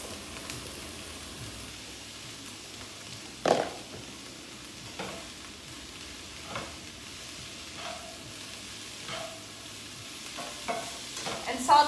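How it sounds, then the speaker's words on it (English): Mushrooms sauté in hot seasoned fat in a pan, a soft steady sizzle with occasional utensil scrapes and taps, fairly quiet and close, with no talking. "And saute a little bit."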